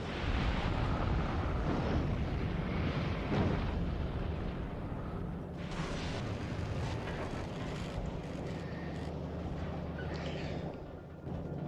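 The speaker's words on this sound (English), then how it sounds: "Let's just fly out between the gunfire and the rockets and the asteroids." Factorio Space Age video game combat in space, with a dense, continuous roar of gunfire and rocket explosions rumbling loudly over a spacecraft's drone, without talk.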